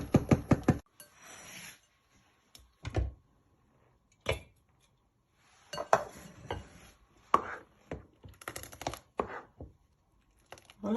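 Millet porridge made with wheat flour and baobab fruit powder being served from a pot into a bowl: scattered clinks and scrapes of utensil on cookware, several short knocks in irregular bursts with quiet gaps, close by.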